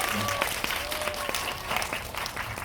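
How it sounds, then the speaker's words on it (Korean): Audience applause at a film screening in a Megabox Coex theater, a steady wash of many people clapping with faint voices underneath. "여러분이 당첨되신 것처럼 큰 박수 한번 부탁드리도록 하겠습니다"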